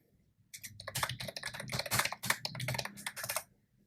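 Fingers type on a computer keyboard in a quick, close, uneven burst of clicky keystrokes lasting about three seconds, with no voice over it.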